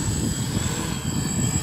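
An ArduCopter multirotor drone hovers in strong wind on ice, its motors giving a steady whirring drone with a fluttering low rumble throughout the short stretch.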